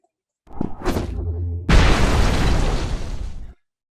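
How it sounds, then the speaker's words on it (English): A loud explosion in the Hyper Light Breaker video game erupts as a sudden heavy boom and long crackling rumble, following a brief whooshing, rising game effect. "Nice explosion too."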